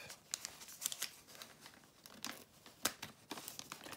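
Wrapping paper on a small parcel is unwrapped up close, giving sporadic crinkles and sharp tearing rustles between brief quiet moments.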